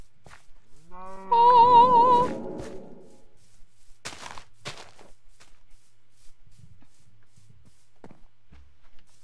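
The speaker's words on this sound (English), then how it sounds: "Stop mooing. Moo, cow, moo." A loud, drawn-out cow moo from a Minecraft-style block-building game, wavering for about a second near the start, followed by soft footstep thumps and a brief exclamation from a player.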